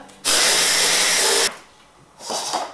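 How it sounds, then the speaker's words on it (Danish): A stick blender whirs through pomegranate peel and cardamom: one loud, steady burst of about a second, a short pause, then a quieter second run starting up. "Og det vil jeg putte op i min stavblender og give det en svingtur."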